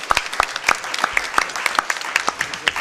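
A research colloquium audience claps for a panel, sparse and uneven, with a few distinct close hand claps standing out over a lighter spread of clapping.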